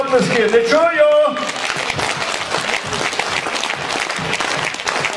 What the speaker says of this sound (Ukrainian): Оплески, не чую!